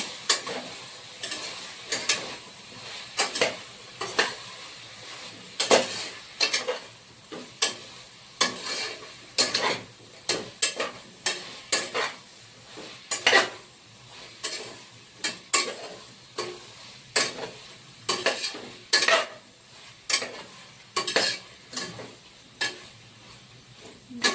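Khichdi mixture stirred in a pot with a spoon, giving a steady run of sharp scraping and clinking strokes over a faint sizzle, close and fairly loud with no talking.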